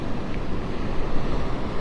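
Strong northwest wind roars across Vanderbilt Beach in North Naples, Florida, with surf rushing underneath. The broadband noise is steady and loud, and no voices are heard.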